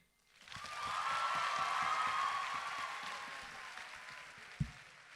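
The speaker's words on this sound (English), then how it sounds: "let us give a round of applause to the entire affirmative team" Audience applause rises and holds steady as a broad, dense wash of clapping at a student debate showcase, then fades, with a sharp knock near the end.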